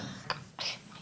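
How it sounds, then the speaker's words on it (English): Two short, close coughs a moment apart, the second harsher and longer, in a quiet indoor room during a meeting. "Cough break."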